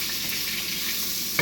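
Atlantic salmon sizzles in a hot pan, a steady close hiss of frying oil that stays even throughout, with a small clink right at the end.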